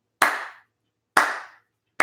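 Three slow, deliberate hand claps spaced about a second apart, each crisp and ringing briefly, alone with no voices.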